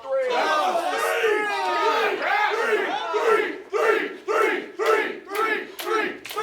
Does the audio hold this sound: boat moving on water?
no